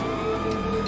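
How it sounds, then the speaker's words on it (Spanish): Police siren in the GTA video game, a loud, continuous wailing tone layered over a car engine rumble, heard briefly and up close with no talk. "¡Sirena!"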